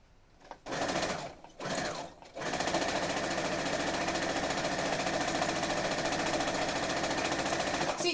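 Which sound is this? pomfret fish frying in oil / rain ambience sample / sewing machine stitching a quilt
sewing machine stitching a quilt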